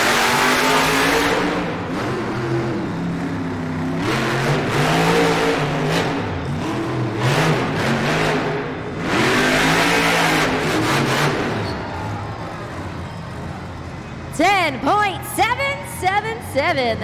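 El Toro Loco monster truck revving at a Monster Jam freestyle event in Toledo, Ohio: loud surging engine roars rising and falling repeatedly, with an announcer talking over the arena noise.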